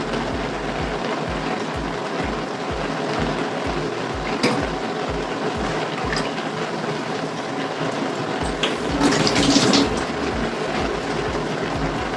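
Rice flour is stirred into water in a bowl in a home kitchen, giving a steady run of soft, rhythmic tapping and swishing strokes at a close, moderate level.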